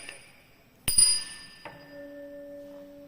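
A sonometer wire plucked during a physics practical under constant tension, two sharp metallic plucks each followed by a clear, sustained ringing tone that fades slowly.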